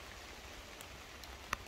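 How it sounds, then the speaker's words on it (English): Rain falling steadily outdoors in New York, heard as a faint, even hiss with a few sharper drop ticks near the end. "Today is gonna rain much of the day"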